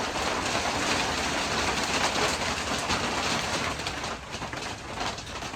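Rain falls steadily outside as a dense, even hiss with a faint patter, holding at a constant level throughout with no voices.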